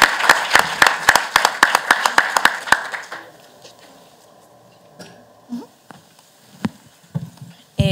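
At a Shaping Colombia education forum, a small audience claps in a sparse, uneven run of distinct sharp hand claps for about three seconds, then falls quiet apart from a few scattered soft noises and shuffles.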